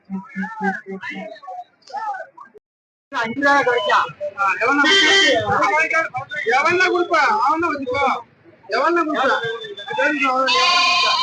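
Goats at a Friday goat market in Ettayapuram, some of them black-legged Mayilambadi goats, bleat loudly and repeatedly among the crowd noise and voices of traders.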